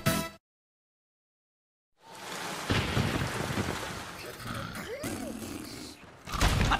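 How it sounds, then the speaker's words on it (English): Tropical storm sound effect from a cereal advert: a loud, dense roar of rain and rumbling thunder breaks in after a brief sound and two seconds of silence, surging and fading, with voices briefly present. "A tropical storm is coming"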